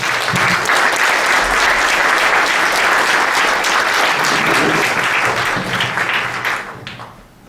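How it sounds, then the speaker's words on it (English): Sustained applause from an audience at a community panel event on improving education quality, a dense wash of clapping for the panel speakers that holds steady for several seconds, then tapers off near the end. "Let's have a round of applause for everybody who spoke."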